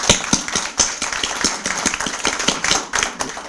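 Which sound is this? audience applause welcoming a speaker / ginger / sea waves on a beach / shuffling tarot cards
audience applause welcoming a speaker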